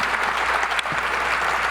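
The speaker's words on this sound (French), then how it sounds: "merci de l'applaudir très fort" Loud, steady applause from the audience at a general assembly of Initiative Sarthe, welcoming a speaker to the floor; continuous and dense for the whole stretch.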